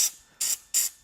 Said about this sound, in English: the only white grease I have is this in a spray container. So I'm just going to spray some of this in here